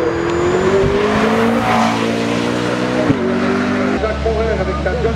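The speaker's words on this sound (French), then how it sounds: "Jacques Morer avec sa John Corvin Honda de 165" A Honda-powered John Corvin racing car, number 165, roars past at a Swiss hill climb, its loud engine note rising and falling with a gear change, steady and close.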